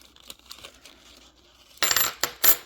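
Silver half dollar coins drop out of an unwrapped coin roll, a quick run of metallic clinks and clatters bunching into three loud bursts near the end after quiet handling sounds.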